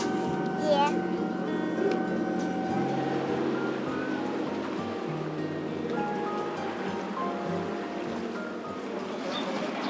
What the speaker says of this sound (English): We're on a boat ride